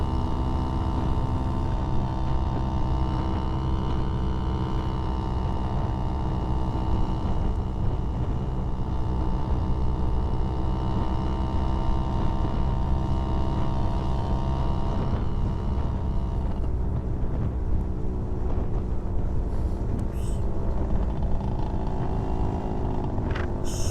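A Yamaha YB100 motorcycle ridden on a country road near Tetbury and Cirencester, its small engine droning steadily with a buzzy hum and a shift down through the gears, close and continuous amid wind rush.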